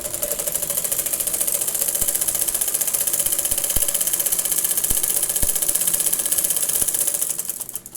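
A sewing machine stitching a women's top with double stitching, a steady close mechanical whirr with a fast rhythmic ticking, running continuously before slowing at the end.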